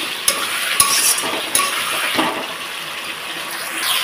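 Potatoes and spices sautéing in a pan for a bata fish curry, continuous sizzling with spatula clinks and scraping stirs, close up with no talk.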